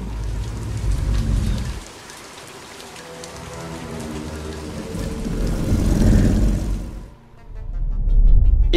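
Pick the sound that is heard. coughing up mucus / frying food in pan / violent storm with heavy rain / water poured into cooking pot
violent storm with heavy rain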